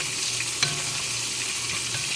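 Onion, garlic, bay leaf, cinnamon, cumin, coriander and mixed spices frying together in a pot, giving a steady close sizzle and crackle with one small sharp tap and no voices.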